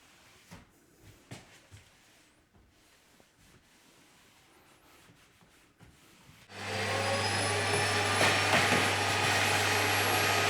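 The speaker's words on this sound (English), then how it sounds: "get yourself a damp cloth, and all we're going to do is just wipe over everything we've done" Soft scattered rubbing and knocks of a damp cloth wiping sanded door frames give way to a loud, steady vacuum cleaner roar that starts abruptly and runs to the end.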